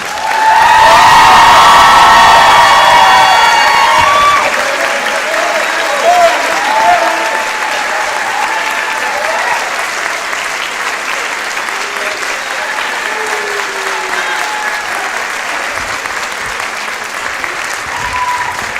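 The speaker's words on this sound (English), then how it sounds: "Now you can clap like crazy." An audience at a spring high school chorus concert bursts into loud applause with cheers and whoops, strongest at first, then settling into steadier clapping as scattered voices call out over it.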